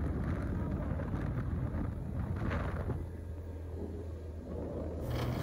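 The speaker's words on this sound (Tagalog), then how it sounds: "Hangin kaayo." Strong, cold wind blows steadily in a rural province setting, buffeting the microphone with a continuous low roar and rumble that eases slightly midway, then picks up again.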